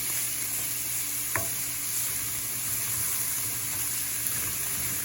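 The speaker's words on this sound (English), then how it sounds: "So I would make sure and stir this." Spanish rice being stirred in a hot pan, a steady close sizzle with light scraping and a single sharp utensil knock partway through, no voices.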